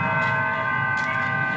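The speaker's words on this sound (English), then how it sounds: "You can hear the bells right now with the playground sound underneath" Layered music track with sustained, shimmering bell tones ringing over a soft wash of distant playground chatter, steady and moderately loud, with brief brighter bursts of noise near the middle.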